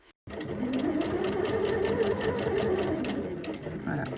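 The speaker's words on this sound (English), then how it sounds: "I keep sewing, pulling out a long thread tail." A sewing machine stitches a dart on a camisole in one fast, continuous run of rapid needle clatter and motor hum, close and clear, with a faint voice underneath.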